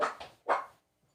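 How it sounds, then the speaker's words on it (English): A dog barks indoors, three quick loud close barks in a short burst, the last one strongest, then quiet. "that's my dog, Zoe."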